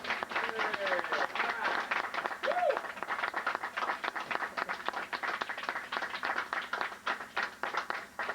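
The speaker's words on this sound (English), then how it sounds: "Applaudissons s'il vous plaît." An audience at a 1999 church mission gathering in Haiti applauds with steady, moderately distant clapping that runs throughout, with crowd murmur and brief voices mixed in.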